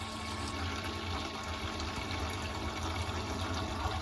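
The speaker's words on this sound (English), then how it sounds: "You can hear the pump running now, filling that boiler back up." A pump runs steadily while refilling a hot water boiler, giving a continuous low whirring hum with a watery rushing hiss over it, close by and unbroken, with no talking.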